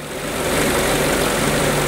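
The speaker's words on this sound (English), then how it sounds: "But watch the DPFE sensor, and like always, listen to the engine. See if it stalls or stumbles." A car engine idles steadily and loud during an EGR valve flow test, a constant close rumble that carries no stall or stumble through the whole stretch.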